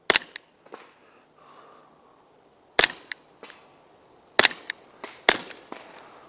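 A suppressed .22 GSG 1911 pistol fires subsonic rounds at an outdoor range, a handful of sharp, dry cracks spaced irregularly with short ringing tails and quieter ticks between, near and fairly loud, with no talk.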